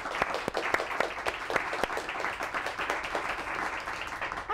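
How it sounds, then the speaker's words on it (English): A studio audience applauds at the start of a TV show, a moderately loud patter of many hands with sharp individual claps standing out, steady for several seconds. "Give a round of applause."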